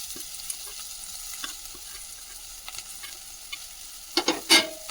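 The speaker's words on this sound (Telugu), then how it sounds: "మెంతుకూర వేసుకున్నాం" Chopped fenugreek leaves sizzle in a pan of oil with fried ginger and turmeric, a steady close frying hiss broken by a few stirring scrapes near the end.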